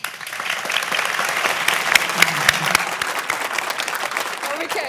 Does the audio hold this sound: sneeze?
no